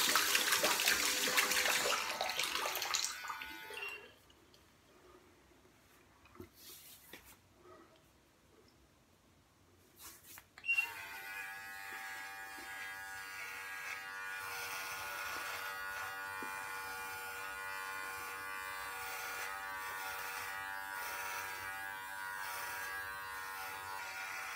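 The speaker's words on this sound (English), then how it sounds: "I'm just going to rinse it under water because if it's not waterproof," A Brio Beardscape electric trimmer runs and is rinsed under a tap. Loud splashing water comes first, then a quieter stretch, then a steady, close electric buzz mixed with running water that continues to the end.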